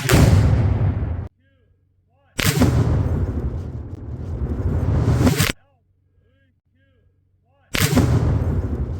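Tannerite detonates to blow up an old TV outdoors: three loud, booming roaring bursts, each lasting a second or more, separated by near silence.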